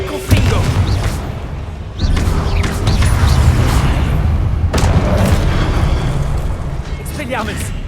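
Confringo blasting spells erupt in a wizard video game, a few loud booming explosions with sharp onsets over a dense, continuous rumble of game noise and effects, with voices mixed in.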